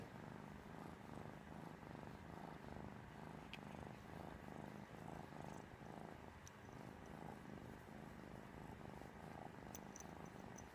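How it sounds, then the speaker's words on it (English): A Manx cat purrs softly and steadily up close, with a regular rhythmic rumble that keeps going throughout, quiet and uninterrupted. "Feel so good, you're purring."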